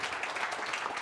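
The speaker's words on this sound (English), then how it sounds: "Everyone, a round of applause." Audience applause fills a talk event room after a product management presentation, a steady dense wash of clapping at moderate level with no voices over it.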